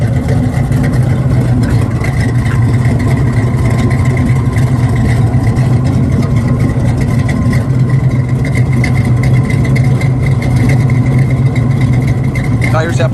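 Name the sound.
muscle car's cammed engine running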